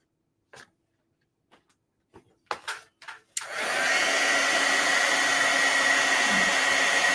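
A few soft clicks and taps are followed by a heat tool blowing loudly and steadily, melting white embossing powder on a stamped card.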